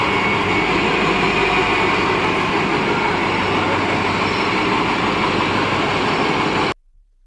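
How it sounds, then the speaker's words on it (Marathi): A train moves off at Panvel railway station with a steady, loud rumble and rattle that continues for several seconds before cutting off abruptly. "आपली ट्रेनसुद्धा स्टार्ट झालेली आहे, तुम्ही पाहू शकता."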